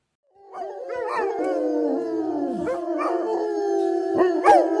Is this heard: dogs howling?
yes